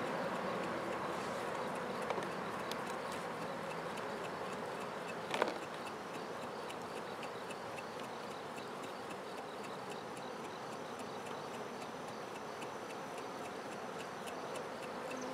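A dense, continuous hum of many honey bees buzzing together inside a jar being shaken for a sugar roll varroa mite test, steady and fairly faint, with a couple of small ticks.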